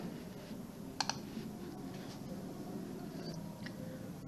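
Two quick mouse clicks on a computer, close and crisp, standing out once over a quiet room hum with no talking.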